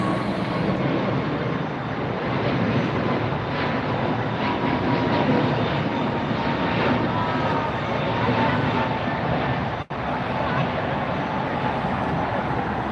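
An American Airlines jet departing LAX produces a steady, fairly loud engine roar with a broad rushing texture that stays even for the whole stretch, broken only by one brief dropout near the end.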